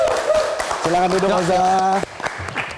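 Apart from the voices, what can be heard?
audience applause for comedian Oza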